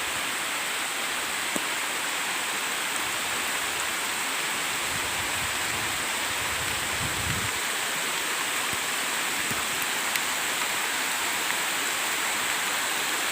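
Heavy rain pours down steadily under a big tree in a village, a dense, loud, unbroken hiss with a few faint low thumps of drops.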